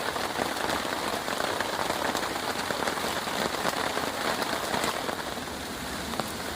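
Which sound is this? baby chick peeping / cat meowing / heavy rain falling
heavy rain falling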